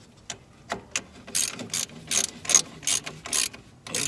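A ratchet snugs the bolts on a brake cylinder of a Ford Pinto's drum brakes, giving a series of close, crisp clicking bursts in short repeated strokes.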